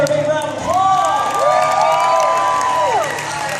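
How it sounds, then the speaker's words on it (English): Live stunt-show audience at Fear Factor Live breaking into applause and cheering, a dense crowd roar with whoops and rising shouts over steady clapping that swells and holds before easing off. "Let's give her a big round of applause."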